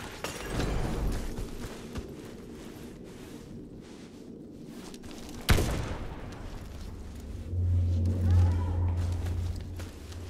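A grenade thrown and exploding in the first-person shooter Warface, heard as a single sharp, loud blast that cuts through ongoing battle noise, with speech around it.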